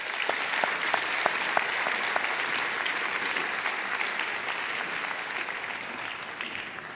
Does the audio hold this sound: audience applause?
yes